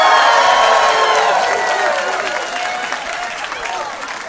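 A comedy club audience bursts into loud applause mixed with cheers and whoops, the clapping strongest at the start and thinning gradually as it goes on.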